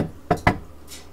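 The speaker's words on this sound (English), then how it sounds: "Is that a knock at my door?" Two quick, sharp knocks on a door in close succession, fairly loud and close, with quiet room tone around them.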